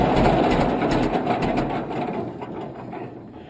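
A John Deere 720 gas tractor engine runs as a loud, steady, close-up mechanical drone that slowly eases in level as it is shut off.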